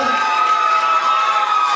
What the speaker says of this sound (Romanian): Haideți să mai aplaudăm încă o dată!